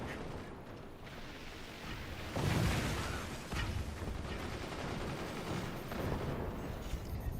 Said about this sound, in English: Machine gunners from on high.